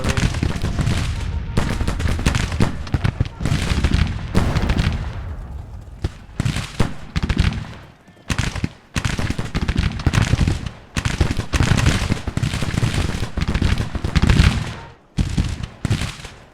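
Rapid volleys of gunfire and booming artillery from a Civil War strategy game battle near Richmond, loud and dense, in bursts with brief pauses between them.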